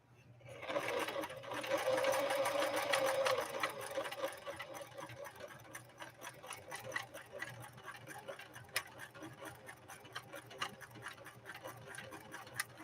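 A Husqvarna Model 145 sewing machine runs a zigzag stitch along glittery 100% nylon ribbon with a rapid, even mechanical clatter that is loudest at first and then settles into a steady, quieter rhythmic ticking.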